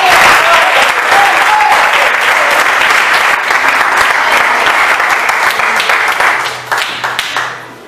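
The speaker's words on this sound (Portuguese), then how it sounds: "que as palmas glorifiquem ao Senhor." A church congregation at a Comunidade Nova Jerusalem service applauds in loud, sustained, dense clapping that holds steady and then tapers away at the end.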